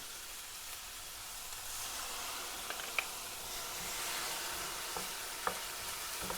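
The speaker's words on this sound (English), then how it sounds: "We're just basically sweating the onions off a bit here." Onions and garlic fry in a pan with a soft, even sizzle that stays fairly quiet, broken by a few faint clicks and pops.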